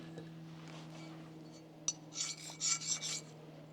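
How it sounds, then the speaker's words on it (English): A knife blade is drawn across a sharpening stone: a few short, close rasping strokes near the end, over a steady low hum. "If you're comfortable sharpening your knife like this"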